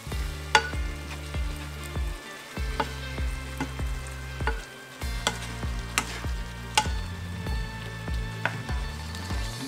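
Seasoning fries in a pan for a Chinese cabbage and chicken breast dish, with a steady close sizzle and regular clinks and scrapes of stirring, no talking.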